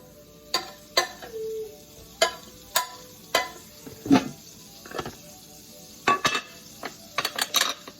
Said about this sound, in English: take about a tablespoon of butter, and drop it right into my skillet where I'm going to scramble the eggs